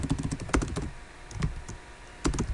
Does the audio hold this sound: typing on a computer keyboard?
yes